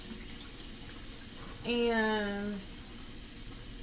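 Tap water runs briefly into a kitchen sink while raw shrimp are washed, a short close burst of flowing water in the middle with a voice speaking nearby.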